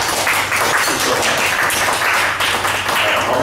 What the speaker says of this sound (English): please give him a round of applause to welcome him